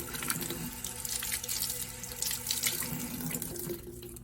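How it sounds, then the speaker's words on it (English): Hot tap water runs steadily into a sink while a paintbrush is rinsed under it, a constant hissing splash with a few uneven spatters, fairly close and with no voices. "And then go ahead and rinse that off again. Hot water."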